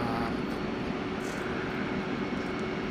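A light aircraft comes in to land in the X-Plane flight simulator, its engine a steady, loud, unbroken drone with no voices.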